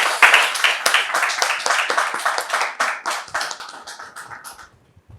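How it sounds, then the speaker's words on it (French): A TV studio audience claps to welcome a guest onto the set, loud and close at first, individual hand claps distinct, then thinning and fading out toward the end. "sous vos applaudissements"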